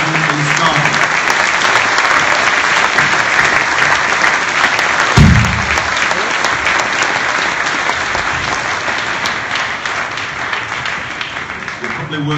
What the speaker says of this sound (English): give a big round of applause to the children from Rysdale School